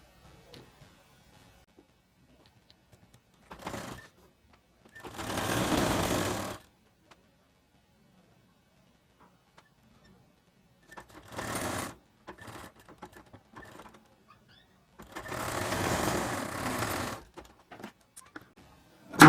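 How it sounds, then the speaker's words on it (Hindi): Short runs of a sewing machine stitching the side seam of a baby shirt, several brief bursts scattered between quiet pauses, fairly soft and close with light handling noises. "दूसरी साइड में भी इसी तरह से सिलाई लगाएं"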